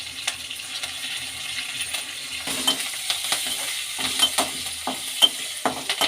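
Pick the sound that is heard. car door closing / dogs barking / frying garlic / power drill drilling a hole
frying garlic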